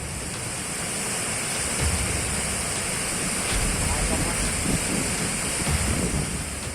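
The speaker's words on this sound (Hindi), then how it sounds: "नदी का ये डरावना रूप दक्षिण में तमिलनाडु के शहर कोयम्बटूर का है।" A flooded river in Coimbatore, Tamil Nadu rushes in a dense, continuous roar of churning water, loud and close, with wind buffeting the microphone and a voice speaking over it.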